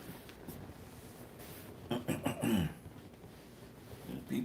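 A person coughs and clears their throat in a quiet indoor room during an online service, a short burst of a few coughs in the middle, close and fairly soft.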